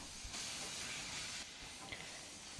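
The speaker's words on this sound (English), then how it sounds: "Look at the steam underneath" Steam hisses from beneath the old Ooty steam locomotive, a broad, steady rush of noise with faint low rumbles and a couple of soft knocks, heard at moderate distance with no talking.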